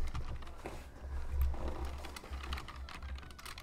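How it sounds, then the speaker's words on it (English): Someone working in 3D modelling software on a computer clatters on the keyboard and clicks the mouse in a steady run of light taps, with a low hum underneath and no talking. "I'm holding down Alt and then right clicking."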